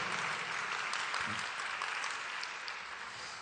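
A church congregation applauds in a dense, steady wash of clapping that holds at an even level and fades slightly toward the end.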